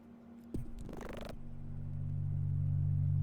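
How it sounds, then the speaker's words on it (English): Alien creature noises in a video game: a faint, eerie burst of warbling, chirping rattles briefly rises, then gives way to a low sustained hum that slowly grows louder, with no speech. "that's the noise of the alien being out and about"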